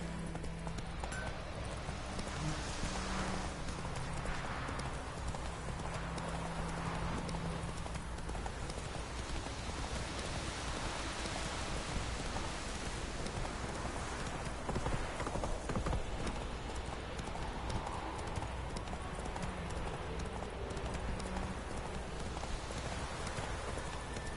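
Horse hooves galloping in The Witcher video game, a continuous rapid clip-clop that runs steadily under a dense, rain-like wash of background noise.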